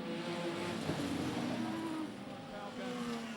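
Modified production race cars at Gympie Speedway drone around the dirt track. The engine tones rise and fall and sit at a moderate distance, merging into a continuous roar with a couple of sustained whining pitches.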